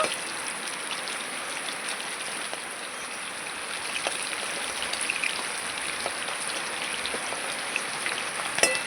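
Heavy rain falls steadily outdoors, a continuous hissing patter with scattered drips and taps, moderately loud and unbroken, with no talk.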